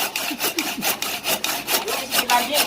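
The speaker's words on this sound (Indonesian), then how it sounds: "Diameter 600 dipotong pakai gergaji dia." A wood saw cuts through a 600 mm diameter PVC pipe in steady back-and-forth strokes, each rasping pass loud and close, about a dozen strokes in a regular rhythm with no talk.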